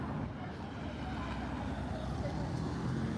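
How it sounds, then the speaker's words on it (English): A car engine passes close by on a street near a building corner, a steady low rumble that stays level for a few seconds with faint traffic noise around it. "I hear an engine sound ahead of me right when it drives by me."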